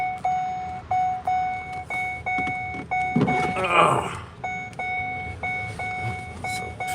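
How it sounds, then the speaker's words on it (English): A car's electronic alert beeps in a steady repeating pattern inside the cabin, clear over low road rumble, briefly masked midway by a louder whoosh of passing noise. "So fix that beeping sound."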